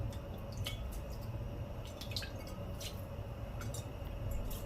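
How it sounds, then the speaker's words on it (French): Water is poured over vermicelli in a pan, heard as a faint liquid trickle with scattered light drips and clinks against a steady background hiss. "Et on va arroser avec un peu d'eau."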